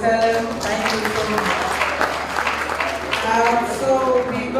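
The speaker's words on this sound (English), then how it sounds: "Can we clap again for Tellen?" An audience at a World Intellectual Property Day 2025 ceremony claps steadily for several seconds, a dense wash of applause filling the room while a voice speaks over it.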